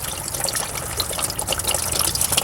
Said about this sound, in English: I guess this is one way to drain the coolant